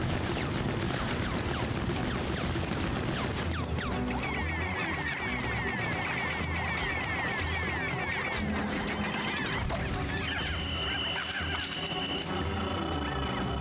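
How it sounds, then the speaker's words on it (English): Enemy gunfire in the game Pikmin 4, a dense, continuous barrage of rapid shots with chirpy electronic effects layered over busy game music, loud throughout. "He's shooting at me now."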